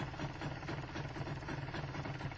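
An MZ ETZ 250 motorcycle engine idles at about 1,200 rpm, a steady, even low rumble with no change in pace and no voices.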